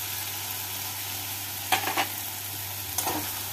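Chicken cooks in a pan with tomato puree in a steady low sizzle, broken by two short bursts of scraping or stirring and no speech.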